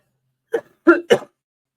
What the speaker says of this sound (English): I've still got my cough.